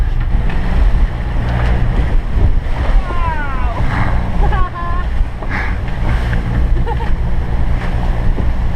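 Caribbean ocean waves slap and rush against a sailboat hull on a passage from St. Martin to St. Kitts, a loud, close wash of water with heavy wind noise while people talk and exclaim over it.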